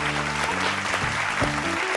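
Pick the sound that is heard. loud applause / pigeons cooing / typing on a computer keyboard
loud applause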